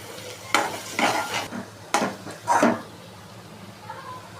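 Turmeric, chili powder, ginger-garlic paste and green masala paste sauté for a kolambi bhuna masala, with several bursts of scraping stirring over a faint sizzle, each stroke close and distinct, with quiet gaps between.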